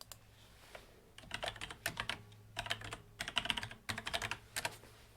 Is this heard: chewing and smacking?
no